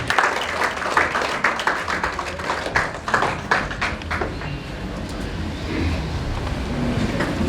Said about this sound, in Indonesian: kita langsung saja sambut dengan tepuk tangan yang paling meriah